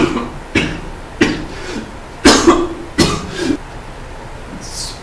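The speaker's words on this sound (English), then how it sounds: "I'm sorry, I was coughing really bad." Five or six harsh, close coughs come in a rough series with short pauses between them, no talking.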